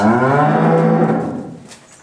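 A cow in a cowshed lets out a single loud, long, close moo that fades away at the end.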